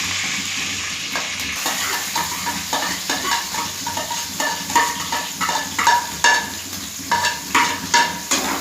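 Boiled potatoes fry in hot oil for a Spanish omelette, a steady sizzle under repeated stirring and scraping of a spoon against the pan, close and busy.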